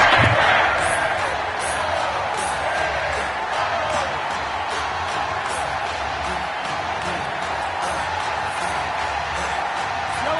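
A stadium crowd in a PS4 American football video game roars and cheers in a continuous, dense wash of noise, loud at first and then steady, with an announcer's voice running over it.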